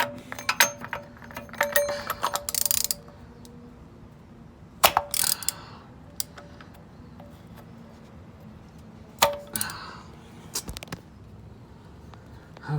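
A special oil filter ratchet works loose the oil filter on a 2004 Toyota Camry, giving a few sharp clusters of ratcheting clicks and metallic clanks separated by quieter pauses, close and clear.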